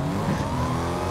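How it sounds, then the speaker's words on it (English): A fast car in the Fortnite video game approaches from behind, its engine rising to a loud, sustained, revving whine that stays close for about a second. "I hear a fast car behind me."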